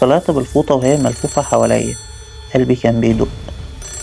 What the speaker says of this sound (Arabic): وأنا تحت المية سمعت صوت رن التليفون أرضي